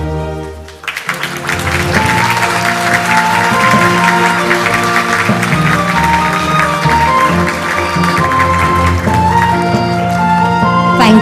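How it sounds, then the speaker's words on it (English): Sustained applause from a conference audience at an AI global forum in Seoul, filling the hall steadily for about ten seconds as a commemorative group photo is taken, with background music tones underneath. "We'll take a photo as we applaud."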